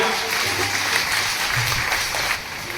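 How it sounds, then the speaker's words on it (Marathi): An audience at a religious katha gathering at a Shri Ram temple claps together in honour of a Mahamandaleshwar; dense, sustained applause fills the whole moment, with voices audible in the mix. "आपण टाळ्या वाजून महाराजांना वंदन करूया"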